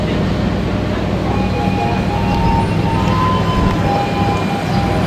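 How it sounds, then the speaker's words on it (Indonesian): A loud, steady rumble of the Argo Anjasmoro passenger train on track one at a station in Surabaya, with faint tonal whines and squeals above, busy ambient noise throughout. "ini yang di jalur satu adalah kereta api Argo Anjasmoro dari Surabaya Pasar Turi ke Jakarta Gambir"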